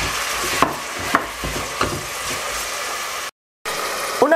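Onion, pepper and garlic fry together in oil with a steady low sizzle, broken by several sharp stirring clicks and scrapes and one brief cut to silence near the end.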